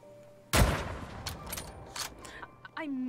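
A single loud, close gunshot in The Red Lantern game cracks out and decays, followed by quieter game sounds and a brief voice-like tone at the end.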